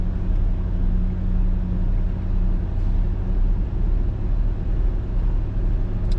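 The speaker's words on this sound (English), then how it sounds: "So I'm gonna go ahead and idle it up, just like we did earlier out in the parking lot." A car engine in a parking lot is held at a raised idle near 1800 RPM, a steady, even low rumble with no talking.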